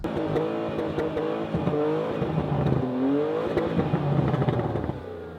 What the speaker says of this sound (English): Here's some more exhaust clips.